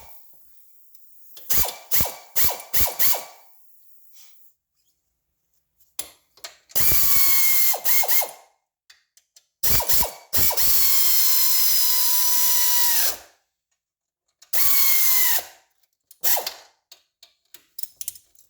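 A hand ratchet clicks in fast bursts and longer steady runs while tightening brake caliper bolts into soft aluminum threads on a Yamaha during a brake conversion, loud and close, separated by short silent pauses.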